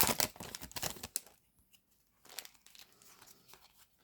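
Crinkly plastic foil of a Yu-Gi-Oh booster card pack is torn open close by, a burst of rustling and tearing, a short pause, then quieter crinkling and rustling as the wrapper is handled.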